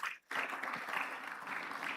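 Applause from a graduation audience at a Lagos Business School executive programmes ceremony rises after a brief pause into dense, steady clapping that fills the hall, with no talk over it.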